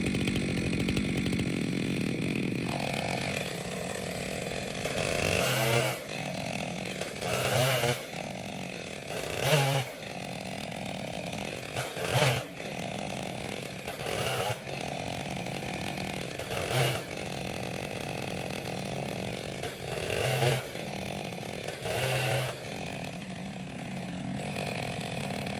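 Chainsaw bucking a large poplar limb, the engine running steadily throughout with repeated revving surges as the chain bites into the wood, close and loud with no talking.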